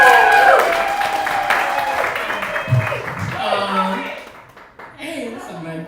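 An audience at a fundraising show claps and cheers as a performer takes the stage, applause loud at first then fading, with someone speaking over and after it.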